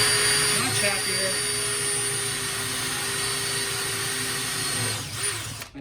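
Battery drill spinning a hole saw through wood, a loud sustained whine with steady tonal overtones that dips and shifts briefly at the start and winds down near the end.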